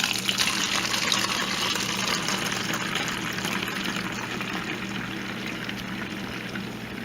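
Canadian blonde craft beer pours steadily into a bottle, a continuous loud liquid rush with no break.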